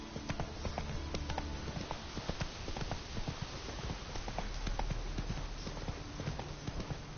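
Roach, the horse in The Witcher 3, gallops in a steady, rapid clip-clop of hooves that carries on without a break over a constant low rumble of game ambience.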